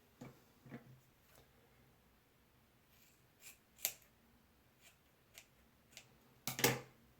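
Scissors snipping through hair during an at-home layered haircut, about an inch trimmed off; a few quiet, sparse snips spread out, the final pair louder and closer.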